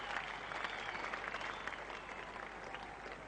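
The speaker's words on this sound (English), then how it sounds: "A generous round of applause from this full house here at the Oval" A full house of cricket spectators at the Oval gives a generous, steady round of applause during the 1987 England versus Pakistan Test, the clapping distant and sustained throughout without a break.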